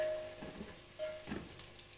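Onions and cumin frying with salt in a pan for a home-style Indian vegetable dish, giving a soft, steady sizzle with faint crackles, fairly quiet and close, with no talking.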